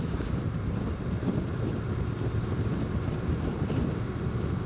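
Strong wind roars against the rider on a 2025 Honda NC750X motorcycle during a test ride, a continuous loud buffeting rush with no speech.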